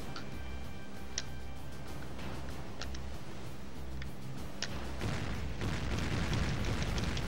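Japanese battleship cannon fire in the naval video game World of Warships: deep, rumbling booms rolling over a constant low engine-and-sea drone, growing denser and louder toward the end.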